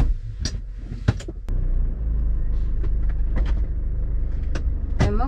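Car engine starting after the keys go in, a few clicks and clunks followed by a steady low idling rumble with occasional knocks inside the cabin.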